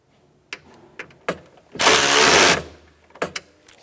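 Power tool tightening a bolt on a Ford Expedition window regulator: a single loud, sustained whirring burst of under a second, framed by sharp clicks and clunks of handling before and after.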